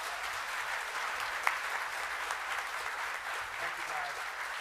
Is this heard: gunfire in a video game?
no